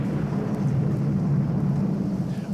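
Deep, continuous thunder rumbles loudly over a thunderstorm, a heavy low roar with a faint rain hiss above it and no voices.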